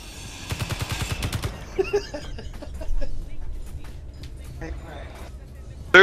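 Gunfire in the video game Space Engineers: a rapid run of automatic shots early on, then scattered single shots and clatter, with people talking over it throughout.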